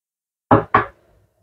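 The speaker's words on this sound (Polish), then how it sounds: "Do miski wlewam 2 jajka." Two eggs are cracked against a bowl for a chocolate halva cake, two crisp, close knocks in quick succession followed by a faint trickle, with no talking.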